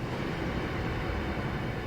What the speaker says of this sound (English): quite an old train in the game,